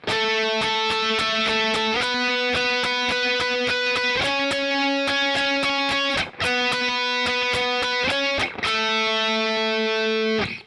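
Distorted electric guitar plays a song's riff, picking octave notes high on the neck in a quick steady eighth-note pulse, with chord shifts every couple of seconds, loud and alone.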